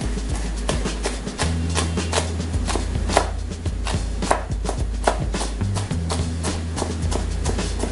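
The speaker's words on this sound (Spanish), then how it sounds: "ahora entonces comenzamos a cortar" A chef's knife chops bell pepper into tiny brunoise cubes on a board with fast, steady taps, close and fairly loud. A low hum sits underneath, and no one speaks.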